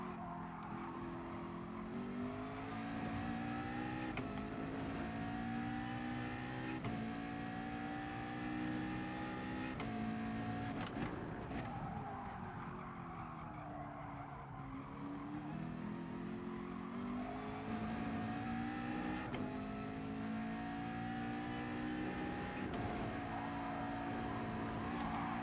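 A race car engine in GT Sport screams and revs through the gears, rising, falling and shifting in a steady loop with tyre noise, close and continuous with no talk.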